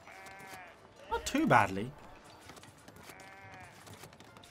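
Sheep on farms in the video game Foundation bleat in short wavering calls near the start and again near the end, with a brief spoken reply in between.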